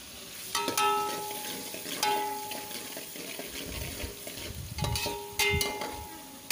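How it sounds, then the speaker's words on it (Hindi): Garlic and onion sizzle steadily in a hot pan while a utensil scrapes and stirs now and then, with faint clinks over the frying hiss. "इसे हमें फ्राई करना है और इसकी भुनी हुई खुशबू आने तक हमें इसे फ्राई करना है"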